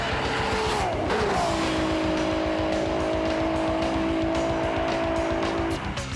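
A Smokey Nagata V12 Toyota Supra roars at full throttle on a public road at night in England, a loud, sustained high-pitched engine howl rising steadily after a tire squeal, close and continuous with no talk.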